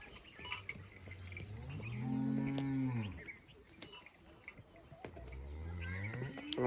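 Cows and calves on a farm, with two long, loud bovine moos and fainter calls and background clatter around them.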